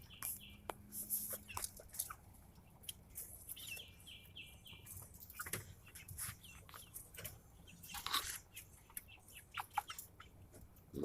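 Chickens foraging among weeds give scattered, faint clucks and chirps at a little distance over a quiet outdoor background.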